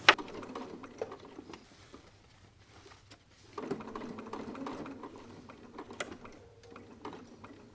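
A sewing machine stitches a patch pocket, running in short, quiet bursts with brief pauses between runs of stitching, with no talk.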